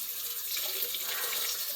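Cold tap water runs steadily into a colander of dandelion roots in a kitchen sink, a continuous hissing splash with small fluctuations as the roots are rinsed, no voices.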